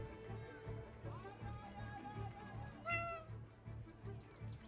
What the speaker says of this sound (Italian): Andiamo a prendere il gatto.